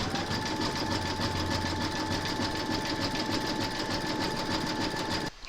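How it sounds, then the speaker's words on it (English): Embroidery machine stitching a zigzag join round for large appliqué letters, a steady, close, rapid mechanical whir and tapping that runs evenly for several seconds before stopping abruptly. "pop your hoop into your machine and stitch round number 6, and that's going to zigzag along this line"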